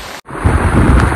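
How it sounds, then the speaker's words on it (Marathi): Heavy monsoon rain at Sudhagad fort lands as a dense, loud roaring wash with gusty wind buffeting the microphone; a brief dropout interrupts it near the start before the downpour resumes. "पाऊस एकदम जोरात आला"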